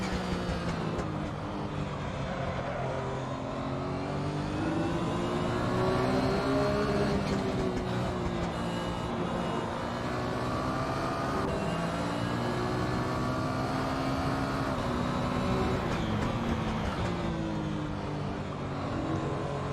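A Porsche 911 GT1 race car engine in the Assetto Corsa racing game, a loud steady harmonic roar whose pitch rises and falls through gear changes, sustained without pause.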